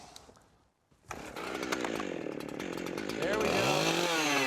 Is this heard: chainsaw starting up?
yes